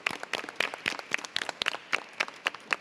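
Scattered applause from an audience at a public school board meeting, individual claps rising and falling in an uneven rhythm, moderately loud and fairly close, with no talking over it.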